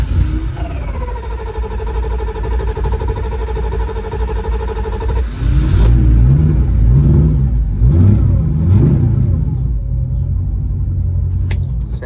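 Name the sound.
carbureted drag car engine firing up and revving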